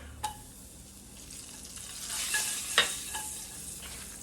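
Garlic drops into rendered pork fat for an amatriciana sauce, crackling and sizzling in a steady hiss with a few sharp pops and scrapes partway through, close and fairly quiet.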